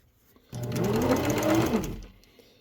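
A sewing machine stitches a raccoon hat, running in one steady burst of rapid whirring about a second and a half long. The sound is close and fairly loud and stands alone, with quiet before and after.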